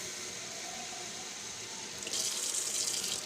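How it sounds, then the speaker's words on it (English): Water from a jar poured into a pressure cooker while making chicken Alfredo: a steady, faint running-water wash that swells louder and brighter in the last second. "I put 1 jar of water."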